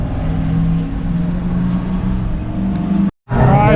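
Race cars with LS V8 engines, some looking like Mustangs, roar together in a steady loud drone at a circuit, with a brief cutout before the engine noise returns.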